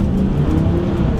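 A VW Touareg V10 accelerates hard during a 20 to 70 mph run, its engine roaring loud and close with a rising throaty drone that fills the whole moment.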